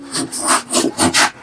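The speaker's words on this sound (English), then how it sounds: "So that is what you can do with a pull saw." A Japanese-style pull saw cuts through wood in several quick back-and-forth rasping strokes, loud and close, each stroke a distinct hissing burst in a steady rhythm.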